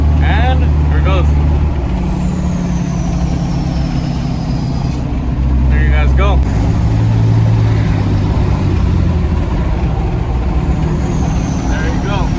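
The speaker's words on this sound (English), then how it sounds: "We got the exhaust brake on," Loud, continuous low diesel rumble from a Dodge Ram 2500 pickup with a deep droning exhaust-brake roar that shifts in pitch; someone talks briefly over it.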